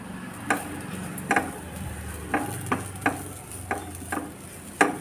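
Grated coconut with ground cardamom and a pinch of salt being stirred in a pan, a soft steady sizzle broken by several sharp scraping clicks of the spoon at irregular intervals, close and alone without voices.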